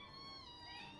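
Cats meow faintly, their drawn-out, tonal cries overlapping and running unbroken through the whole moment. They are quiet and distant, with no talking.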